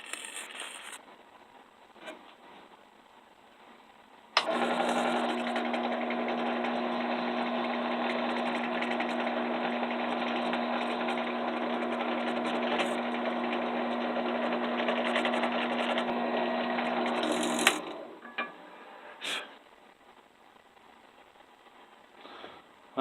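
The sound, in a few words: drilling holes in antler knife handle scales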